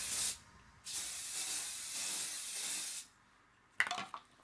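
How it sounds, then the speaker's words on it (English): Hairspray hisses in a short burst and then a long, steady spray of about two seconds while curls from a chopstick curler are set, followed by faint rustling and handling noises at close range. "I'm just gonna go and put a little bit of spray"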